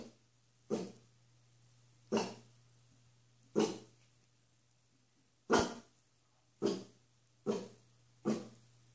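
A dog barks at an Egyptian statue at the end of a hallway, seven sharp, spaced barks with short growly tails, fairly close, over a steady low electrical hum.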